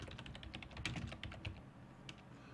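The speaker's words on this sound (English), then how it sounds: "Keyboard." Typing on a computer keyboard, quick irregular key clicks in short bursts, close and fairly quiet, with no voices.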